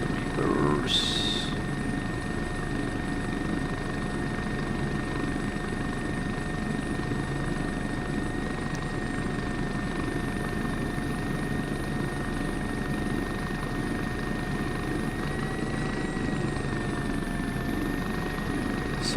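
A helicopter on an Austrian tour flight drones steadily from inside the cabin, its rotor and engine whine constant and loud while flying in reverse, with a brief radio or voice burst near the start.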